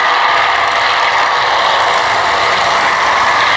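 An early-war fighter aircraft flies at the Duxford VE Day air show, its loud, steady engine roar filling the air without a break.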